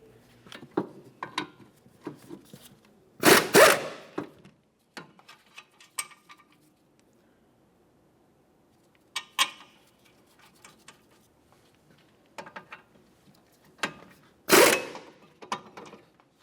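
A wrench turns 17mm brake caliper bracket bolts on a 2006-2011 Honda Civic, with bursts of close ratcheting clicks, a couple of louder metallic clunks, and quiet gaps between them.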